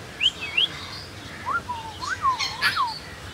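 Pet cockatoo Cheeku lets out a few clear rising-and-falling whistled calls, close by and fairly loud, spaced across a few seconds over a quiet room.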